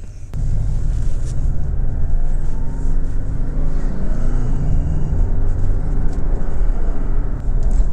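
A 2024 Porsche 718 Boxster Style Edition in Sport Plus mode accelerating, its engine a loud, close, sustained rumble that rises in pitch through the revs with faint road and wind noise around it.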